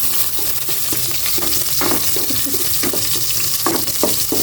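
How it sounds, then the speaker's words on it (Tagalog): Garlic sautés in hot oil in a casserole pot with a steady, loud, close sizzle and crackle throughout, and faint scraping stir sounds now and then. "Igisa na po natin yung na-prepare kong bawang muna."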